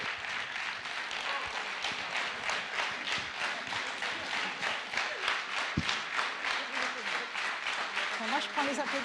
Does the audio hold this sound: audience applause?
yes